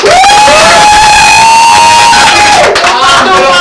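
Podcast studio crowd cheering and applauding loudly and continuously, with a shrill whistle-like tone sweeping through the noise and voices shouting within the din.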